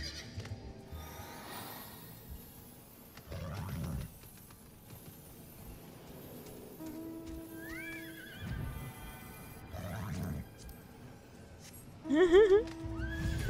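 A horse in the Final Fantasy XIV online game whinnies several times in short bursts, with clip-clop hooves and game sounds between, the loudest neigh near the end.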